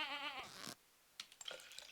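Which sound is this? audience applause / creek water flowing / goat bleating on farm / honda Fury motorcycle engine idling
goat bleating on farm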